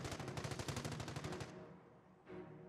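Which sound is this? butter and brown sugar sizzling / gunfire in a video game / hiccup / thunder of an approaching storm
gunfire in a video game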